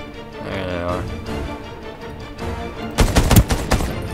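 Gunfire erupts in the online shooter game Ring of Elysium, a rapid burst of loud shots near the end following a stretch of game music and ambience, with a voice talking over it.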